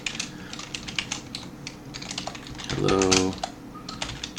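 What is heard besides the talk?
typing on a computer keyboard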